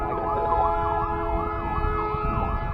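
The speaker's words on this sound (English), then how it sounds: "The loudest siren in the area always comes by when you have the camera out." An emergency vehicle siren wails loudly and close by, its pitch sweeping up and down in a steady repeating cycle over low traffic rumble. No one speaks.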